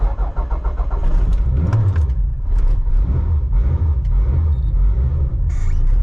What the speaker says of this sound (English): I basically have to treat this car as if I'm starting a carbureted car with no choke